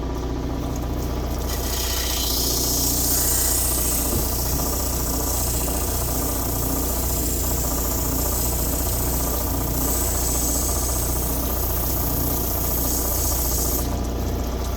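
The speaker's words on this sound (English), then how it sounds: "I'll just flatten it out over here on this other wheel." A lapidary wheel runs steadily as an Ethiopian Welo opal is flattened against it, giving a continuous mechanical whir with a low rattling hum and no pauses throughout.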